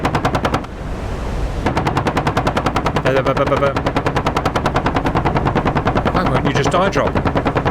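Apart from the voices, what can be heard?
aircraft machine gun fire in a naval battle video game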